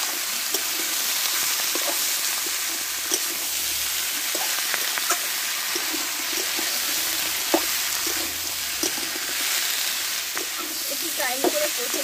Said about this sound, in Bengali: এটা দিয়ে মশলার সঙ্গে ভালোভাবে কষে নেব।